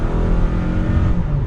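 A 2022 Toyota RAV4 XLE AWD accelerating, a steady engine drone rising under road and tire noise heard from inside the cabin, brief and loud.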